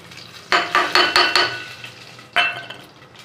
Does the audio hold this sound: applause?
no